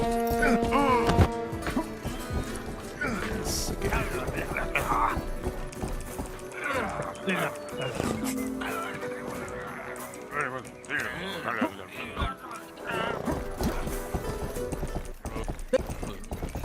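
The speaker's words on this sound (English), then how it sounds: "I want to steal that horse" Horse hooves clip-clopping at a steady gait in a video game, rhythmic and fairly close, with an occasional whinny, running under game music and talk throughout.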